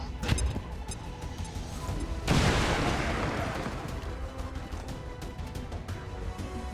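An explosion in the video game XCOM 2: War of the Chosen, a sudden loud blast that rolls into a sustained noisy rumble over steady game background sound, with a few sharp clicks before it.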